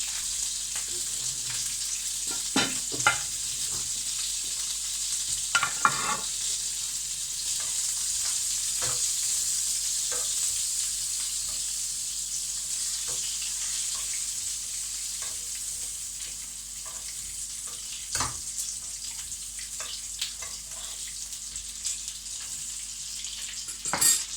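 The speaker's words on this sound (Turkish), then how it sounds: "Biberleri kızardı." Peppers fry in oil in a pan with a steady, even sizzle throughout, while occasional close clinks and stirring scrapes stand out above it.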